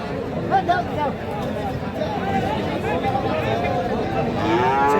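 At the Raniganj cattle haat, where Friesian and crossbred bull calves are sold, a cow lets out several drawn-out moos close by, set against steady crowd chatter and people talking nearby.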